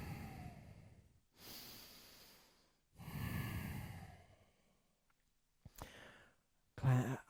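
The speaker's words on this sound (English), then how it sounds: "Big breaths in." Deep, breathy inhales and exhales during a kundalini yoga flow, heard close and alone in several long drawn breaths separated by short quiet pauses, ending with a sharper snort-like breath.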